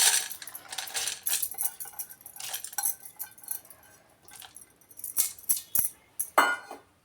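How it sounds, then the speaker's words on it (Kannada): Washed dal is added to a pressure cooker for radish sambar, heard as a string of bright metallic clinks and scrapes of a spoon against the steel vessel, close and irregular, without speech. "ಬೇಳೆ ಸೇರಿಸ್ಕೊತಾ ಇದ್ದೀನಿ"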